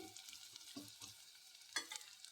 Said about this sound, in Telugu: ఇప్పుడు బ్రౌన్ కలర్ వచ్చే వరకు ఫ్రై చేసుకోవాలి ఉల్లిగడ్డ మాత్రం